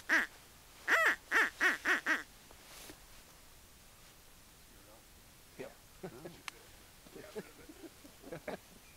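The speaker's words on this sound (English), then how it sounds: "Well, the ducks are flying anyway." Ducks quack loudly in a quick burst of about six calls at the start, then fainter scattered quacks and rustling follow outdoors during an Alaska duck hunt.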